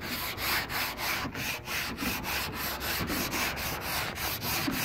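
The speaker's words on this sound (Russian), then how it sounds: "вышкуривать вот такими движениями, не напрягаясь, и вышкуриваем" A UAZ Patriot car fender is hand-sanded with sandpaper in steady top-to-bottom strokes, giving a close, rhythmic scratchy rasp that repeats about three times a second, with no voices.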